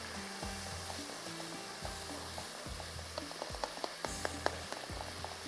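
Tomato masala frying in a pan, a soft continuous sizzle with faint scraping and stirring clicks, steady and low with no talk over it.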